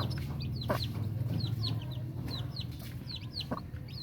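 A black broody hen clucks repeatedly in short, close bursts, with a steady low hum and other farmyard chicken calls in the background.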